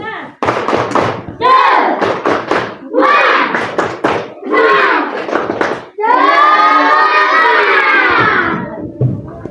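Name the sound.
class doing the 'tepuk semangat' clapping chant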